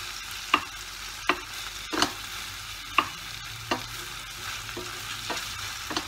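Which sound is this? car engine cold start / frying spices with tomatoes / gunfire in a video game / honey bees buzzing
frying spices with tomatoes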